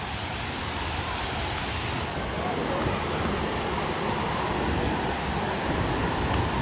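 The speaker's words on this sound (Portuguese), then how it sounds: "Aqui já é a cachoeira, ó." Waterfall of Prumirim beside the Rio-Santos road in Ubatuba, São Paulo, giving a steady, dense roar of falling water that fills the whole clip at close range with no break.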